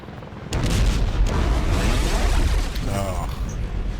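Apache attack helicopter firing on tanks in Arma: Cold War Assault, with loud sustained booming explosions and rumbling weapon fire filling the scene after a quieter start.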